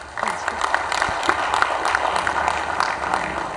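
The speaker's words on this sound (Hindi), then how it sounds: "मैं फिर चाहता हूं कि आप अंजलि जी के लिए एक बार जोरदार तालियां बजाएं।" An audience applauding for Anjali at the IBC24 Shakti Samman 2024 women's award ceremony: dense, steady clapping from a crowd fills the hall, moderately loud and continuous.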